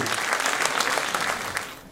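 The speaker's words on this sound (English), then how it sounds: "Give a big round of applause for them, sir." A crowd applauds briskly, a dense patter of many hands clapping that fades out toward the end.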